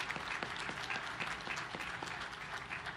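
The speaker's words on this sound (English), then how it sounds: "big round of applause for them" An audience at a commissioning ceremony for a Navy destroyer gives a round of applause, many hands clapping steadily and fairly near throughout.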